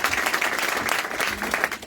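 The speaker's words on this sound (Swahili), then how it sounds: "Tũpigie Bishop wetu makofi maingĩ." A church congregation gives its bishop a steady round of applause, many hands clapping densely and continuously across the whole stretch without letup.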